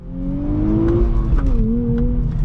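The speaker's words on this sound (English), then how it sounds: "behind the wheel of the new Nissan Z, and this thing is an absolute riot to drive" 2023 Nissan Z engine heard from the cabin while driving, a loud low drone that climbs in revs, eases briefly and continues, with faint clicks over the top.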